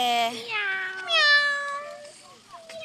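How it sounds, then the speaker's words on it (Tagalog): Cats at a mini animal zoo meow loudly and close by, giving several drawn-out, wavering cries one after another. "may mga cute na mingming"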